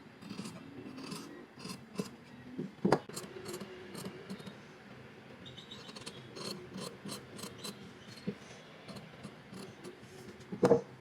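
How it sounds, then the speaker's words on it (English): Fabric scissors snip through excess zipper length and trim uneven seam allowances while a boatneck top is finished, with repeated close, crisp cuts and a louder snip near the end, alone without talk. "I go ahead and cut off any zipper teeth below this tiny plastic piece"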